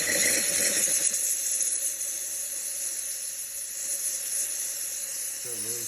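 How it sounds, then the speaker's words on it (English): A Lelit Elizabeth espresso machine's steam wand hisses strongly and steadily after a full tune-up, a bright continuous jet of steam that runs for several seconds at close range. "It's got really strong steam."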